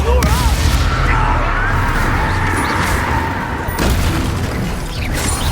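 Blasting-spell explosion in the Hogwarts Legacy video game, a loud booming burst with sustained rumbling combat noise throughout, sharp onset at the start and another surge near the end, no talk heard.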